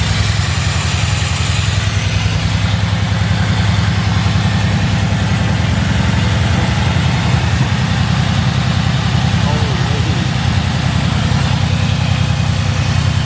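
A Mercedes C63s engine idles steadily with a slight misfire, giving a loud, continuous low rumble with a faintly uneven pulse throughout and no talking.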